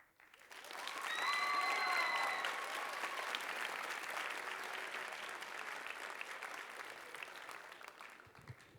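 Audience applause after a high school writers' week performance, a broad steady clapping that swells quickly, holds for several seconds, then tapers; a few faint voices and a sung tone drift in at the start.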